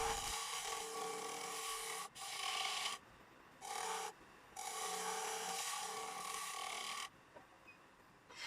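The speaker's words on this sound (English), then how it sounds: "I started the sanding on the Dolomite and Volcanic sand at grit 80" Coarse-grit sanding on a dolomite and volcanic sand inlay set into a turned birch bowl, a steady loud abrasive rasp in long bursts broken by brief pauses, with no talking.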